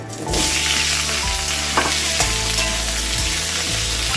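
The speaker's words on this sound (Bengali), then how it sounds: "তেল গরম হয়ে গেছে এখন আমি আলুগুলো ভেজে নেব সেদ্ধ করে রাখা আলু" Boiled potatoes frying in hot mustard oil in an iron wok for a vegetarian drumstick curry, a loud continuous sizzle with several stirring knocks and scrapes, no voices.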